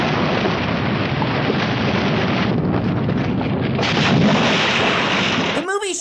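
A volcano erupts amid chaos in the 1979 film Island of the Fishmen, heard as a loud, continuous, thundering rumble with wind-like roaring and a sharp burst near the end.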